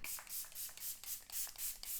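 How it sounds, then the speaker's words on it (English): A makeup setting spray mists out in a quick series of pumps, about seven soft hissing bursts in a steady rhythm, close and fairly quiet with no talking. "So I'm gonna spray this on, let it dry, and then we can evaluate."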